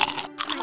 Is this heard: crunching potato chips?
yes